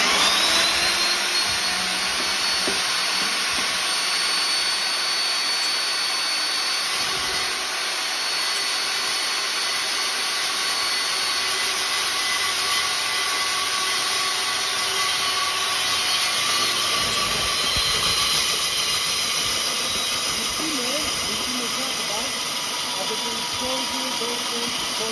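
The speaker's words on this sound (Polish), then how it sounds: "Następnie uruchamiamy wiertnicę i rozpoczynamy sam proces" A water-fed core drilling rig runs continuously, giving a loud, steady, high-pitched grinding whine with a constant motor drone and slight variations as it bores, with no talk audible over it.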